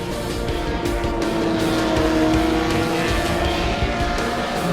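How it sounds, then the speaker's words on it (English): A Ferrari 275 GTB/C racing around the Spa circuit, its engine screaming at high revs in a loud, sustained wail with shifting pitch and faint tire noise, no voices present. "who sent his Ferrari 275 GTBC screaming around the circuit."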